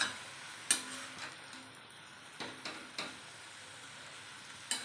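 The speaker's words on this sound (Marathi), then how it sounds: "अशीच परतून परतून घ्यायची आहे. कोबी परतून झालं आहे." Shredded cabbage for a Maharashtrian village-style cabbage thecha is sautéed in a pan. It gives a faint, low sizzle, and a handful of sharp clinks and scrapes from the stirring spoon come at irregular moments.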